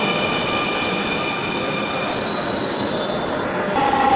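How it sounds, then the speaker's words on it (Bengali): A Dhaka metro rail train bound for Uttara pulls into the station with a loud, steady rumble, tonal motor whine and a high wheel squeal rising near the end. "উত্তরা যাওয়ার যে মেট্রো রেল ওটা চলে আসছে"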